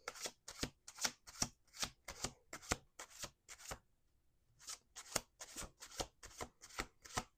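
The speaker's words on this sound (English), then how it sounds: "Two more shuffles." Crisp riffling bursts of a tarot card deck being shuffled, about a dozen quick zipping passes in steady rhythm with a brief pause midway, close and clear.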